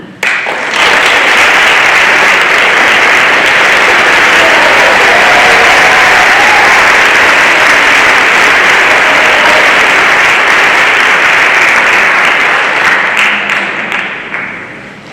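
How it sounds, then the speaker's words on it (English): Audience at a school upper-school awards ceremony breaks into sustained applause, loud and dense for about fifteen seconds before tapering off at the end, with a few faint voices mixed in. "we'll give you another round of applause"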